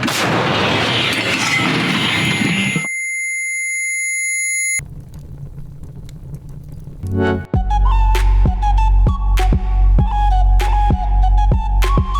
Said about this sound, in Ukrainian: Армата! Постріл!